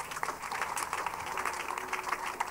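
A church congregation claps and applauds together, a dense patter of many hands, moderately loud and steady throughout.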